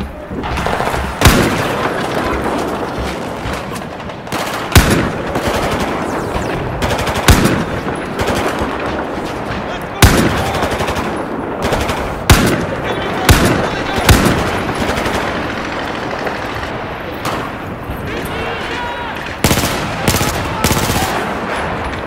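Battlefield 4 gameplay combat: rapid bursts of automatic gunfire and sharp single shots repeat across the whole stretch, loud and close, with occasional heavier booms and faint voices under the shooting.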